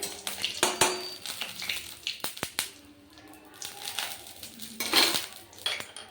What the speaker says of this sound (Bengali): তেল গরম হয়ে গেছে। তেজপাতা ফোড়ন দিয়ে দেব, জিরে, গোটা গরম মশলা দিয়েছি